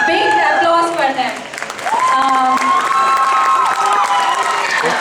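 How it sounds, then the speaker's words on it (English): A cheering crowd at a Deepavali 2015 dance event in Tarangini applauds the moms who backed the kids in the dance, with loud clapping mixed with shouts and voices that dip briefly and then swell again. "Big applause for them."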